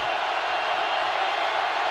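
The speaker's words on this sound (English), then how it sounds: "This crowd is rocking" A steady, dense roar rises from the stadium crowd at an NFL football game between the Seahawks and Titans, loud and continuous, with no distinct voices standing out.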